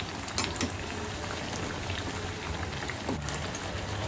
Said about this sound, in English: flip it other side and leave it in the oil for 3 to 4 minutes and then you take out the bhajis